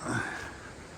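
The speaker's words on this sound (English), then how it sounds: "I think I can hear a waterfall" Steady broadband rush of falling water from a waterfall near the entrance of a Japanese garden, continuous and fairly close, with no talk over it.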